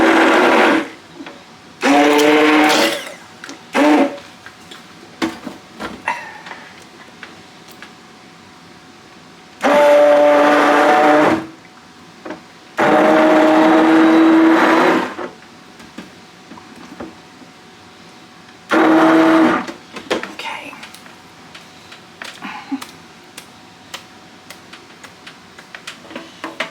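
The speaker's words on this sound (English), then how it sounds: "I'm just going to use that immersion blender again" Several loud bursts of an immersion blender mixing spaghetti sauce with meat, each a few seconds long, separated by quieter pauses with light clatter.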